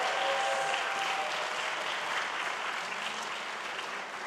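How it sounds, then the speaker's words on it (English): A large audience at an oratory competition final applauds the finalists, a full, even roar of many clapping hands that holds steady and then eases slightly. "Let's give all of our finalists one huge round of applause"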